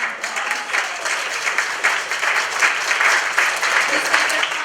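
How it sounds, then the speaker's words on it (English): Steady audience applause for a panel on sustainability in the intimates industry, brisk clapping with slight swells, moderately close and without speech. "can we just give these lovely humans a big applause?"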